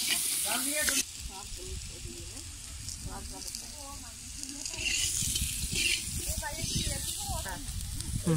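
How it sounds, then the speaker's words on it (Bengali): Potatoes sizzle and fry in hot oil at an outdoor family picnic cookout, a steady crackling hiss running throughout with a louder burst partway through, while people talk over it. "আলু ভাজা হয়ে গেছে।"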